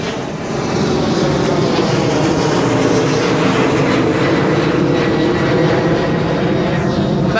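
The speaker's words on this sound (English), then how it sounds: "You can see the plane coming overhead." Airplane passing low overhead near Chicago, a loud sustained broadband engine roar that holds steady for several seconds with no talking.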